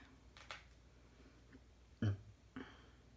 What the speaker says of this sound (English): Don't even have a drink and I'm down here burping.